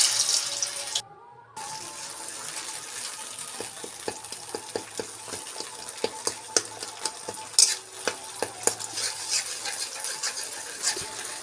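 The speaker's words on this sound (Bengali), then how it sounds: "এরপর কিছুটা নাড়িয়ে নিয়ে তারপর কাজু বাটাটা দিয়ে দেব" Spices and cashew paste are stirred in hot oil in a frying pan, giving a steady sizzle broken by scattered light clicks and scrapes of the spoon, close up and with no talking.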